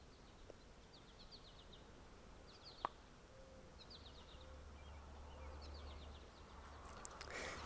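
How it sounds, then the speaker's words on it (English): Faint bird song outdoors: short high trills repeating every second or so over a steady background hiss, with one brief knock partway through. "So maybe we'll just listen to the birds for a second here."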